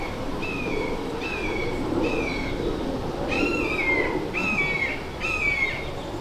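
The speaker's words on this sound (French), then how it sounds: "Je ne sais pas c'était quelle sorte d'oiseau." At the Montreal Botanical Garden beside a small pond, a bird repeats a clear, descending whistled call about six times at a steady pace, nearby, over a soft rustling outdoor background.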